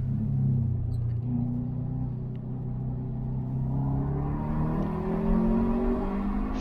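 A Subaru STI accelerating hard on a racetrack, its engine drone rising steadily in pitch for several seconds, loud and close as if from inside the car.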